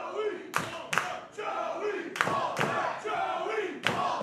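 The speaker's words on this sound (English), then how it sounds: "This crowd rallying behind both men" A wrestling crowd roars and chants for two wrestlers, with loud rhythmic surges of massed voices broken by sharp thuds, the arena noise swelling and ebbing in waves.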